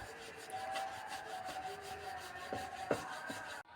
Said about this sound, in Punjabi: ਮੈਂ ਇਸ ਤਰ੍ਹਾਂ ਇਹਨੂੰ ਚੋਪਿੰਗ ਬੋਰਡ ਤੇ ਵੇਲ ਰਹੀ ਹਾਂ